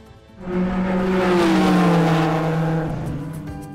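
A Peugeot 208 hatchback driving by on a road, its engine note swelling as it nears and then easing off with a smooth tonal hum, close and fairly loud, no talk.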